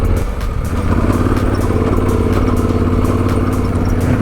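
Loaded adventure motorcycle on the Utah Backcountry Discovery Route churning through deep sand, a loud, steady mid-range engine drone with clattering and wind rush, heard close from the rider's position.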